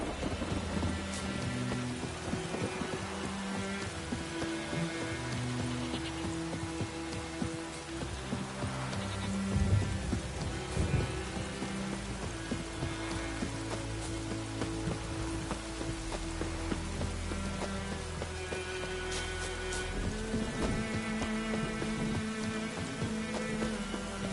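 Steady, heavy rainfall pours without a break, with deep rolls of thunder rumbling beneath it throughout; no voices.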